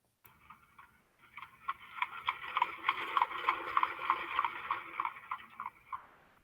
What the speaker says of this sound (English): Expensive carriage, beautiful horses.